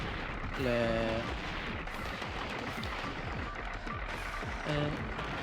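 Missiles launched by a mech-suited cat in Gato Roboto, punchy game-weapon bursts with a sharp tonal blip near the start and again near the end over continuous noisy rumble, a voice talking faintly alongside.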